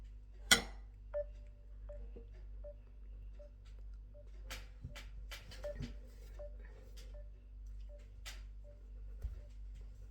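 Phone dialing tones on an outgoing call, a series of short beeps and clicks spread across the stretch over a faint steady hum, fairly quiet and with no voices.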